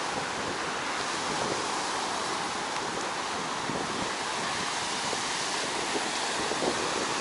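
A steady wind blows on Indian Rocks Beach, Florida, on a cool November day, a constant broadband rush mixed with the wash of surf, with no talk.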